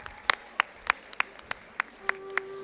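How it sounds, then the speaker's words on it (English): A small audience at a national conference of CA students claps for a third-prize winner of a meme competition. About a dozen sharp, sparse claps ring out unevenly, as though only a few people are applauding in a quiet hall. "A big round of applause for him."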